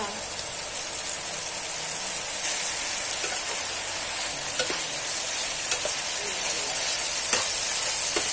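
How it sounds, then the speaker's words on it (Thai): Gourd and egg stir-fry sizzles steadily in a hot pan while seasonings are mixed in, with continuous frying hiss and occasional scraping strokes of a spatula, close and fairly loud throughout. "ผสมทุกอย่างให้เข้ากันจ้า"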